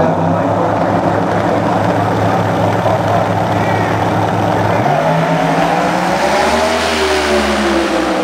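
A twin-turbo race car driven on a track at a tuner event, a loud sustained engine drone that drops in pitch and then shifts as it passes, continuous and close.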